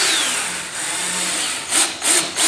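A power driver whirs while screws go into the wooden panels of a computer desk case, giving a steady grinding hum close by and then a few short, louder bursts near the end.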